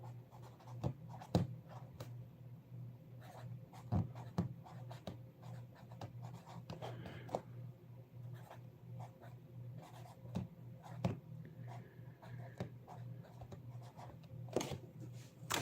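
Pen writing on paper, heard close and quiet as a run of soft scratchy strokes and small taps in irregular bursts over a low background hum, with no talk.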